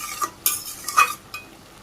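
Spoon stirring a vegetable curry with crushed garlic in a pan, a few quick scraping strokes and clinks against metal with a soft sizzle underneath, close and brief.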